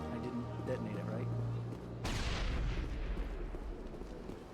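A grenade blast in Mass Effect erupts suddenly at about two seconds as a loud, broadband boom with a lingering rumble, following a steady in-game hum and tones.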